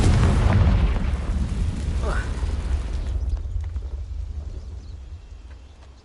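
A Confringo blasting curse explodes in Hogwarts Legacy, a loud boom at the start that rumbles and fades over several seconds, with a voice shouting over it.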